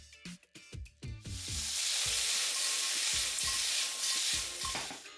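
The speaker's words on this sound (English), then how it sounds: "Next into our wok goes our green prawn cutlets. We're going to give these a quick sear to get that charred wok flavour" Green prawn cutlets go into a hot wok: a few quick clanks and taps, then a loud, continuous sizzle as they sear, with soft scraping knocks from time to time underneath.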